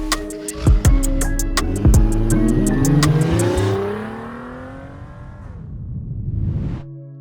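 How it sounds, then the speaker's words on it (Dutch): Ferrari 812 V12 engine revs hard in loud, sharp bursts with rising and falling pitch sweeps, then settles into a lower, fading rumble before a final swell. "Het lijpste geluid dat ik ooit uit een auto heb gehad."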